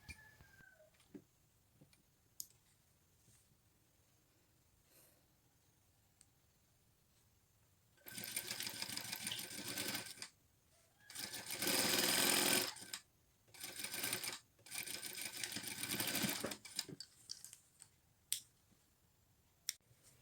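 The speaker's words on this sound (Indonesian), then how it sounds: "Jahit mulai dari sudut segitiga sampai ke bawah." A sewing machine stitches a shirt cuff placket, with several bursts of rapid stitching in the second half after a quiet start broken by scattered clicks and handling sounds.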